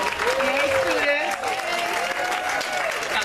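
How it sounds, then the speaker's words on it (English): An audience at an African-American superintendents and administrators event applauds steadily while a voice, apparently singing or speaking over it, rises above the clapping throughout. "And give the wide round of applause for his hard work."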